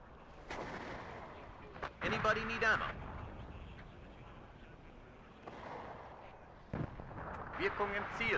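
Artillery in the WARNO war game fires in separate booming bursts, with a few heavy blasts spaced several seconds apart over low background rumble and brief voice chatter.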